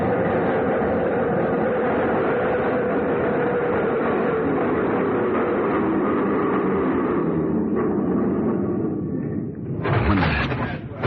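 A train rolling into a platform and coming to a halt, a steady broad rumble and rattle of rail cars throughout that fades near the end before a short burst of hissing brake air.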